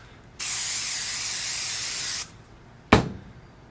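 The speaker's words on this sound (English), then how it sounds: "I spray it onto my ejector pins" A thin die lubricant spray hisses out of a can onto ejector pins in one long burst, followed a moment later by a short, sharp puff.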